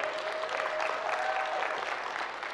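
A church congregation applauds at a marriage message, with dense, steady clapping from a large crowd that holds evenly for a couple of seconds and then eases slightly.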